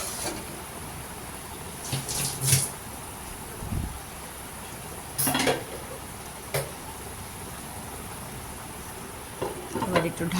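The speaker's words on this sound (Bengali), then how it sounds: "তারপরে পেঁয়াজ দিয়ে একটু ভালো করে নাড়াচাড়া করে নেব" Onions stirred while frying in a pot for chicken soup, a constant low sizzle broken by a few scraping stirs and clinks, close by.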